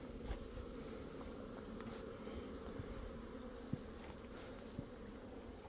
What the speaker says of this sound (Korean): 여기 장수말벌 또 왔습니다.